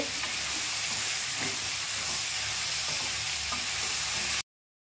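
Tomatoes frying with ginger-garlic paste and coarse salt in a pan for Coimbatore chicken gravy, a loud dense continuous sizzle with faint stirring knocks, no talking, cutting off abruptly near the end.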